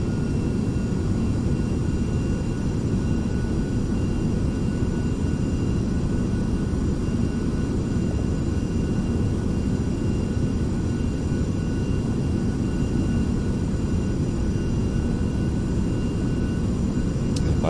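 Carenado Premier 1A business jet in the Prepar3d flight simulator, engines throttled back during approach, a steady loud broadband cockpit roar with a constant low rumble and faint high whine, unbroken throughout.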